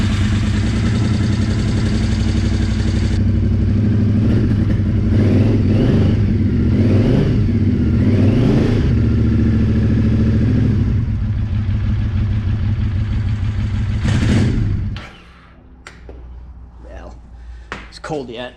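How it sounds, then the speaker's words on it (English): 2006 Triumph Scrambler 900 motorcycle engine running after carburetor cleaning, idling loudly with several revs, then cutting off abruptly near the end, leaving quieter background noise. "put this carb back in the bike, and we'll see how it runs"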